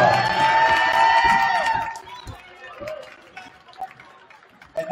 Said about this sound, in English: Let's get one more round of applause for graduate student,